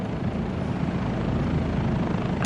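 A Bell 407 helicopter in Microsoft Flight Simulator 2024 gives off a loud, continuous rotor and engine drone with a steady low thrum and no talk, as if heard from the cockpit.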